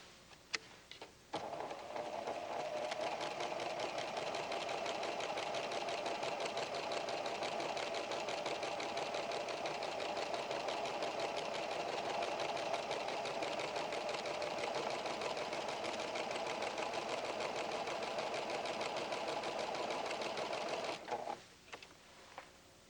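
A PFAFF creative 7550 sewing machine stitches pintucks with a cording foot and pearl cotton, a steady close motor whir with rapid needle ticking that runs continuously for about twenty seconds before stopping, with faint handling sounds at either end.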